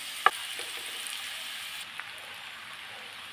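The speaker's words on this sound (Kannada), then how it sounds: "ಇದು ಪೌಡ್ರುಗಳ ಜೊತೆನೇ ಫ್ರೈ ಆಗುತ್ತೆ." Vegetables and rice frying with spice powders in a pan give a quiet, steady sizzle with a sharp clink near the start; no one speaks.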